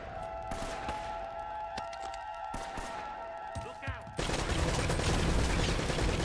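Turret gun in Uncharted: Drake's Fortune firing, with sustained bursts of gunfire, a steady background drone, and a louder dense barrage near the end. A voice talks intermittently underneath.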